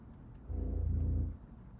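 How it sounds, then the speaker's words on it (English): A short, deep bass tone from the Alchemy synth in Logic Pro swells in and holds for under a second, a low droning synth note over quiet background. "but it's another synth from Alchemy. It's a bassy sound,"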